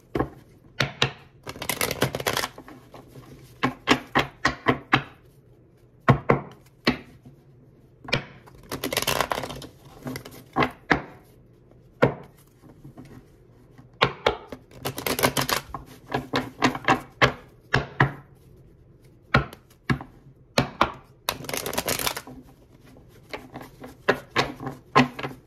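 Tarot cards are shuffled in repeated bursts of rapid riffling and tapping, close and fairly quiet, with short pauses between rounds and no talking.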